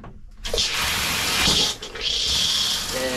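Shower in a Rockwood Mini Lite 2205S travel trailer turned on, water spraying in a steady broadband hiss after a short click, running continuously with a slight dip midway.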